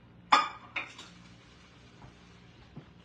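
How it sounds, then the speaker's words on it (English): Extra hamburger meat stirred in a pot for a family supper, a few sharp metallic utensil clanks against the pot, the first loudest, then softer scattered taps in a quiet kitchen. "let me stir this up"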